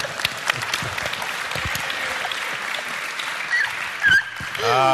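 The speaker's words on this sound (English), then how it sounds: "I'll applaud that." Audience applause at a panel discussion on the future of Australian media: a burst of clapping and a few scattered claps, with voices rising briefly near the end.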